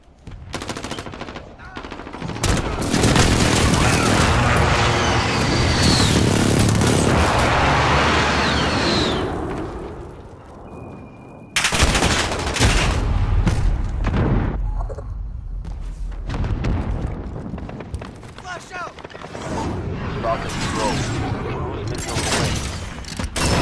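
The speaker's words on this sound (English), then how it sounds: "Friendly precision airstrike on the way." Heavy, sustained explosions and gunfire from a Call of Duty Modern Warfare precision airstrike, loud and close for about ten seconds, then a second wave of blasts and firing, with speech in the game layered over the chaos.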